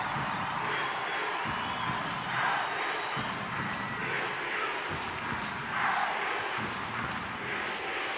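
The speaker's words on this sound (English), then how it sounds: "Crowd anticipating the final whistle blown by the officials." A stadium crowd at Providence Park in Portland murmurs and rumbles as a Thorns versus Washington Spirit soccer match nears its final whistle, a broad steady roar with faint swells of cheering and scattered claps.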